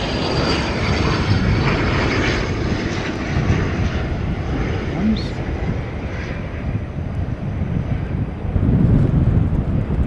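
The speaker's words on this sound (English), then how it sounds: "Another ATR on its way in." An ATR turboprop airliner approaches to land with a loud, sustained engine and propeller drone buffeted by heavy wind noise on the microphone, swelling slightly toward the end.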